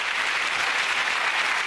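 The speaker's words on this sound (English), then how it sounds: "a round of applause for all the people" Studio audience applause closing a comedy panel show, a steady dense clapping that stays loud and even throughout with no talk over it.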